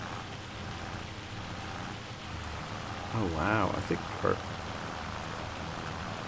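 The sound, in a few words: heavy rain in the video game Farming Simulator 25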